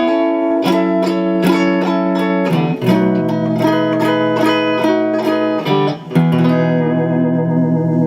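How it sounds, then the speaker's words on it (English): A vintage 1967 Watkins Rapier 33 electric guitar plays notes and chords with its onboard tremolo giving a pulsing, wavering volume and a touch of grit, played steadily without any voice. "Very sensitive tremolo."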